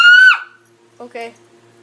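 A person imitating a cat scream, a short high wailing yowl that drops off, followed by a brief low voiced sound and a faint steady background tone.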